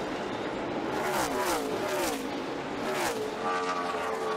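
NASCAR Sprint Cup stock cars racing the final white-flag lap on Charlotte's mile-and-a-half oval in 2015, their engines a loud, continuous roar whose pitch sweeps up and down as the cars pass close by.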